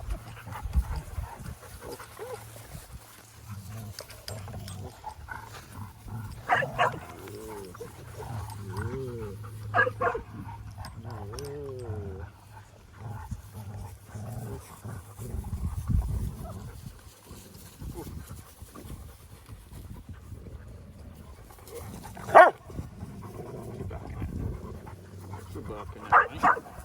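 A boxer dog on a farm pants and lets out a few short barks and whimpering vocalizations, close by, mixed with someone speaking to it in a calm, soothing voice.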